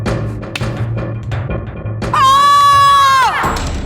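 A man in a Maharana Pratap historical drama lets out a long, loud, sustained scream on command, rising sharply after a stretch of background music and clatter, then breaking off and fading.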